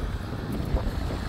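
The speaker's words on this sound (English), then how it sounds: "Windy day." Gusty wind buffets the microphone with a low rumbling roar, steady throughout the short moment, with faint water-like wash beneath.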